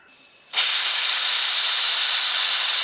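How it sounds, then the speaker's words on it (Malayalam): After a quiet moment, a loud, steady hiss of steam bursts from a pressure cooker whistle cooking dal and continues without pause. "നമ്മുടെ കുക്കർ ഒരു രണ്ട് വിസിൽ വന്നിട്ടുണ്ടെങ്കിൽ ഇത് ഇറക്കി വെക്കാം"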